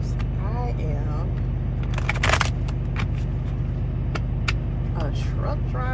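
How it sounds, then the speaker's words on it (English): A truck engine idles steadily with a low hum throughout, while a person talks over it and a few clicks and crackles come through. "I might have to turn my truck off. I hope it's not too loud."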